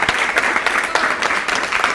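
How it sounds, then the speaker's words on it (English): An audience at a high school graduation ceremony claps for an honoree, a dense burst of close applause from many hands that keeps a steady level across the whole moment. "So let's give him a big hand of applause, please."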